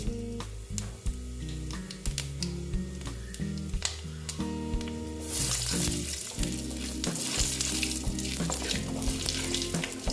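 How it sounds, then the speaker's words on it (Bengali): Panch phoron spices dropped into hot oil in a pan, a steady low crackle that swells into a bright, louder sizzle halfway through, with scattered pops and clinks of a utensil. "তেলটা একটু গরম হতে দিচ্ছি মোটামুটি গরম তো আছেই এবার আমি দিয়ে দিচ্ছি পাঁচ ফোড়ন"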